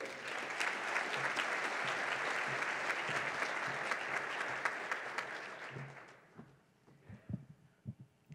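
At a girls and women in sports luncheon, a crowd gives a warm round of applause welcoming the district superintendent; the dense clapping holds for about six seconds, then fades to scattered claps and soft thumps.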